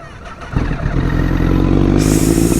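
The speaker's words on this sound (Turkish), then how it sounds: "Binlik motordan böyle bir ses çıkıyor." A 1000cc motorcycle engine starts up and settles into a loud, steady running rumble, close by, with no voices.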